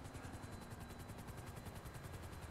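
Helicopter in Grand Theft Auto V, a steady rapid rotor chop with dense mechanical roar, loud and continuous throughout without talk.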